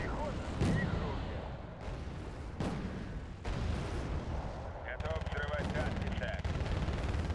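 Rifle fire and heavy weapons in a combat video game with an M1A2 tank and a wrecked Bradley, dense booming shots and bursts layered continuously, loud and busy, with voices talking over the din.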